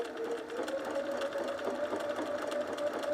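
A cover stitch machine sewing picot elastic onto underwear hums in a fast, even mechanical whir, close and continuous, with skipped stitches occurring.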